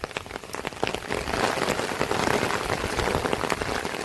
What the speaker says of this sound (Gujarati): વરસાદ ચાલુ છે જોરદાર.